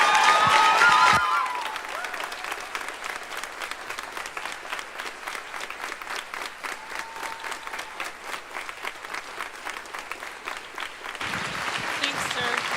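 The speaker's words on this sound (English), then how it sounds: "if everyone could just give a big round of applause of appreciation to Heather" A school band concert audience claps at length for Heather, a dense, steady wash of applause that swells after a brief spoken lead-in and tapers near the end, with a voice returning over the last moments.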